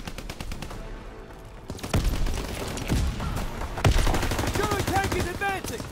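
Sustained battlefield gunfire in Call of Duty: WWII around an advancing and retreating tank, dense overlapping rifle and machine-gun shots, with game voices shouting over the din.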